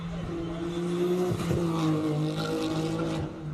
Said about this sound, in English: The 34 launches off the hill. listen to that spectacular sound. You got to love a 6-cylinder.